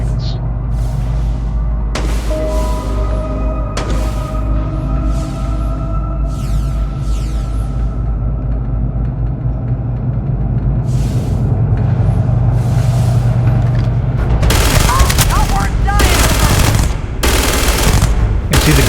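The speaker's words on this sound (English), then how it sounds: "I'm going to change to my mag shear, see how the mag shear works here" The Mag Shear gun fires in Starfield, dense rattling bursts over a continuous loud low rumble of game sound, with sharper volleys near the end.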